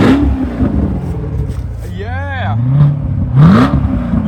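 Corvette engine revving hard on a test drive, a steady mid-range roar with rising and falling pitch swells, while someone talks and whoops over it.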